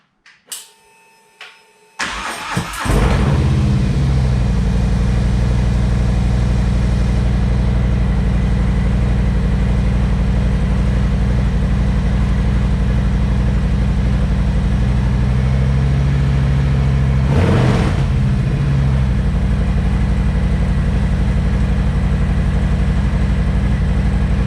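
A motorcycle engine starts in snowy weather after a few clicks and a short crank, then runs at a loud, steady idle close by, with one brief rev about two thirds of the way through before settling back.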